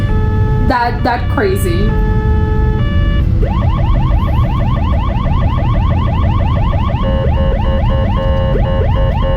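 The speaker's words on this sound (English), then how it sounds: "there's a literal ambulance right behind you" An ambulance siren on a Polish street wails close and loud, shifting through rising sweeps and then fast repeating yelps, while people talk over it.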